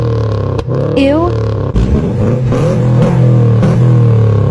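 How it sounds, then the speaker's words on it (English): A Honda Civic fitted with a new HKS exhaust revs up and rises in pitch, loud and close, with a brief shift before the engine settles into a steady, throaty drone. "This exhaust sounds sick."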